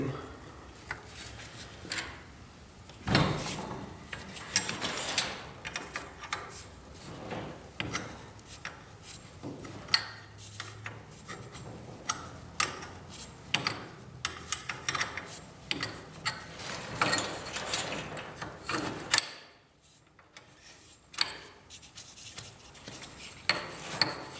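Set screws on a garage door torsion spring rod are loosened by hand, giving intermittent metallic clicks, scrapes and clinks of tools on steel, fairly close and moderate, with occasional brief pauses.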